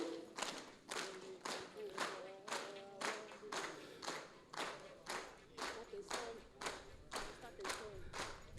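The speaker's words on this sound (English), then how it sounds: "Clap and receive President Museveni." A crowd at a Ugandan political rally claps in steady, evenly spaced unison beats to receive President Museveni, the rhythmic claps fairly distant, with a voice chanting along between them.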